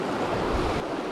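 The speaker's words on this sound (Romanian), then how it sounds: "Toată apa e un repediș, cum v-am mai zis." Rapids on a mountain river in the Apuseni Mountains rush steadily, a dense, loud roar of water that holds at an even level for about a second.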